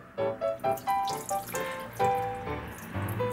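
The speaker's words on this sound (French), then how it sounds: "Et en attendant, on va laver le riz. Une fois que l'eau devient blanc, il faut vider l'eau." Rice being rinsed in a bowl of water, close sloshing, swishing and gurgling pulses in a loose rhythm as the grains are swirled, with no speech.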